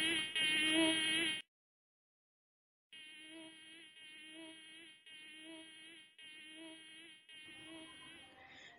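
A high, whining mosquito buzz in a cartoon about mosquito metamorphosis, one sustained tone that cuts off, pauses for a moment of silence, then returns in a pulsing, wavering drone.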